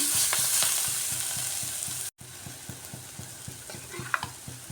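Cumin powder spice masala stir-fried in a pan for an egg curry with coriander leaves, making a steady sizzle under rhythmic scraping strokes of a spoon, close up, with a very brief drop to silence midway.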